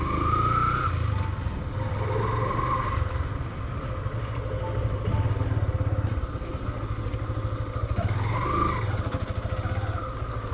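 A motorbike rides along a sandy track near the Agunia tea estate in Rangunia, its engine droning steadily and up close with wind rumble, occasional rattles and small rises in revs.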